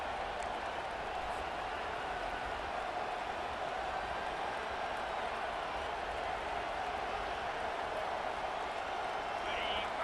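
Crowd roar from a college football video game, a dense, steady stadium wash that holds at the same level throughout without a break.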